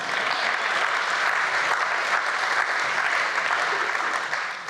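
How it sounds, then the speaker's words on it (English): An audience applauds Chris at the Global Gala for Rhinos charity event. The clapping is full and sustained, heard close and fairly loud, and runs steadily for several seconds before tapering slightly at the end. "Please give Chris a round of applause."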